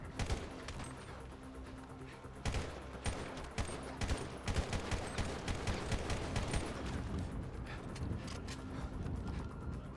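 Dense bursts of automatic gunfire as zombies are shot in a zombie mod of GTA V, starting sparse and then turning into a loud, continuous barrage of rapid shots.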